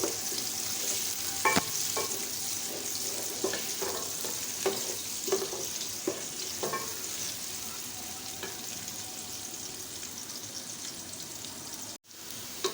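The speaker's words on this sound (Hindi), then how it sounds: "प्याज को अच्छी तरह से हम गोल्डन ब्राउन करेंगे।" Sliced onions and bay leaves frying in oil in a pan, a steady soft sizzle broken by spoon-scraping stirs at irregular intervals, moderately close.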